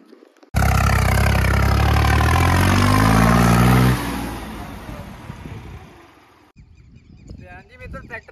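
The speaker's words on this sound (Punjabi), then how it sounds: "ਟਰੈਕਟਰ ਇੱਥੋਂ ਵੇਖੋ ਚੜ੍ਹ ਨਹੀਂ ਪਾ ਰਿਹਾ" A tractor engine labours loudly and close while attempting to climb a steep rise, revving hard with a rough, pulsing drone before easing off to a lower, uneven running sound; a voice is heard faintly near the end.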